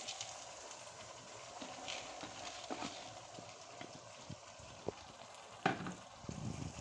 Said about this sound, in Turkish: Biraz altını kısıp şöyle biraz kavuruyoruz.